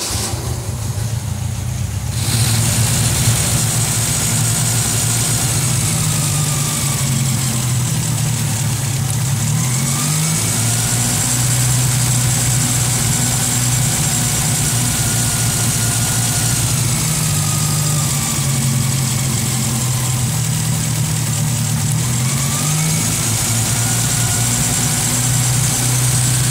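A Ford Del Rey's engine cranks over, catches and settles into a steady, loud idle that runs close by throughout, with slight shifts in pitch and a faint whine above the low rumble.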